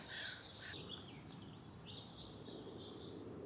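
Robins chirping outdoors in the morning, thin high tweets and short calls repeating at a faint distance over quiet background ambience, with no voices.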